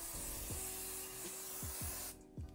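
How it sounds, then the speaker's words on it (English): A continuous hiss of aerosol hairspray held close, lasting about two seconds before cutting off, with a few soft knocks. "I'm taking my hairspray again and I'm just gonna"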